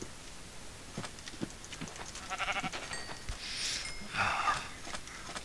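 Sheep bleating in the Minecraft video game, a few short bleats among soft clicks and game sounds at moderate volume, with no voices.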